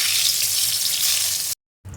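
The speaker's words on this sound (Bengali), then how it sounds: "এবার ম্যারিনেট করে রাখা বেগুনগুলো একে একে ভেজে নেব।" Marinated eggplant slices sizzle steadily in hot mustard oil in a kadai, a loud close crackle that cuts off briefly before resuming.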